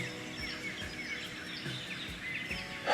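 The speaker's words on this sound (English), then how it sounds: "The yellow robin just above my tent," Yellow robin song, chirps and whistles through steady outdoor wind noise, a few calls repeating in short phrases at moderate distance.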